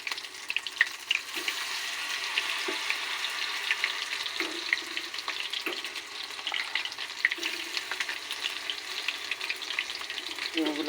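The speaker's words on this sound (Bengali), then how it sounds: "একদম পাতলা ব্যাটার করে ডিমগুলাকে ভাজা করে নেব।" Eggs coated in thin cornflour batter fry in hot oil, a dense, steady sizzle that stays close and continuous throughout, with a few faint knocks and no voices.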